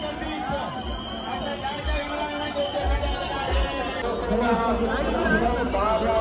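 Huge crowd at a Ganpati immersion procession in Mumbai, with the Parel idol passing: a dense, continuous hubbub of many voices, steady and loud throughout, with low rumbling bursts underneath.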